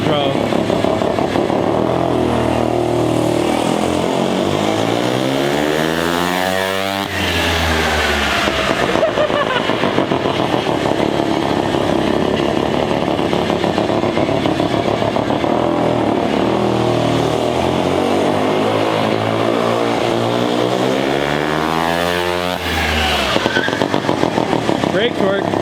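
A turbocharged rotary-engine minibike rips through revving passes on its first ride, the engine note climbing and falling in long sweeps as it accelerates, with a loud continuous drone throughout and people talking over it.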